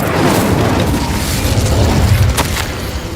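Incendio fire spell cast in Hogwarts Legacy, a loud, sustained roaring blast with deep rumbling body that stays dense for the full few seconds, with a brief crackling flare midway.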